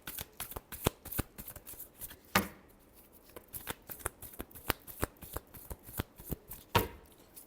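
Tarot cards being shuffled by hand in quick crisp riffles and taps, close and fairly quiet, with a couple of louder snaps along the way.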